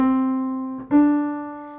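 A single steady sung vowel holds one pitch, then steps up to a neighboring note and sustains it, clear and alone.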